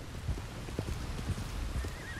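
A horse galloping in Red Dead Online: a steady, rhythmic clip-clop of hooves on the ground at moderate volume, with soft ambient outdoor noise underneath and no talking.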